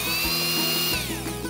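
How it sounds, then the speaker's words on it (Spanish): A toy juice-making machine whirs loudly with a banana inside, a steady high mechanical motor whine that shifts pitch as it runs, close and alone. "¡Qué divertida la máquina mágica de hacer zumos!"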